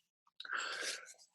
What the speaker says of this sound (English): I started sneezing instead